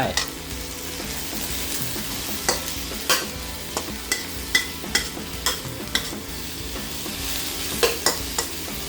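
Shrimp stir-frying in a pan for Thai basil shrimp, a steady sizzle under a regular series of sharp scraping strokes and clinks as a spatula tosses the food.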